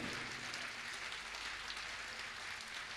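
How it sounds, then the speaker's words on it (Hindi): A large audience at a Jain religious discourse claps together, a dense, even wash of applause that holds steady throughout at a moderate distance. "ताली बजा करके बताइए"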